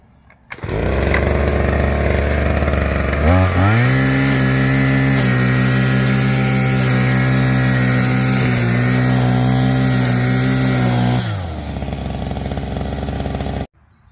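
A Neotec BC520 brush cutter engine starts up and runs at a loud, steady high-revving drone with a strong buzzing whine, holding constant for several seconds before cutting off abruptly near the end.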